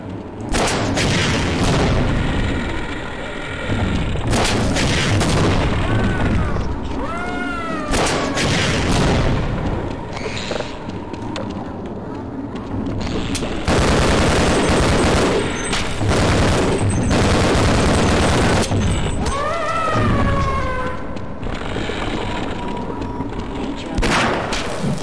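Weapon fire in the video game Half-Life, repeated loud bursts and booms in clusters across the span, mixed with screeching creature cries and game effects.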